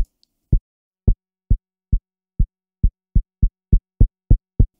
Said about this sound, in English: now I'm gonna use a distortion on here,